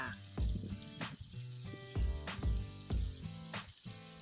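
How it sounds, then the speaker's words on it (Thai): Banana rolls deep-frying in hot oil over medium-high heat crackle and sizzle steadily, with repeated louder bursts of bubbling close by. "เราก็จะนำกล้วยที่ละม้วนค่ะ ลงไปทอดนะคะ ใช้ไฟกลางค่ะ ค่อนไปทางแรงนะคะในการทอดค่ะ"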